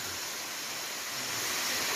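Small jungle waterfall in a protected forest with low water flow, giving a steady, soft hiss of falling water with no voices.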